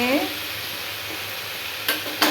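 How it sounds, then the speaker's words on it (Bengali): Soybean chunks sautéing in a pan give off a steady, fairly close sizzle, broken by two sharp spatula scrapes near the end. "এবারে এই সোয়াবিনটা দিয়ে একটু কষাবো কষিয়ে"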